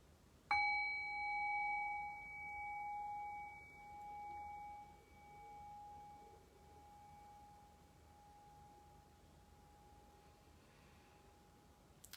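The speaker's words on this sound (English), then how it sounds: "So I'll ring the bell" A meditation bell is struck once at the opening of a brief loving-kindness practice, giving a clear, bright ding whose tone rings on and slowly fades for many seconds in a quiet room.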